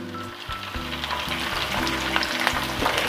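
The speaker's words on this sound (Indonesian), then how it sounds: "Ikan terinya sebelum dimasak saya goreng dulu ya." Small dried anchovies (ikan teri) frying in hot oil for a cassava-leaf vegetable dish, a steady close sizzle with rhythmic bursts of stirring and scraping, no talking.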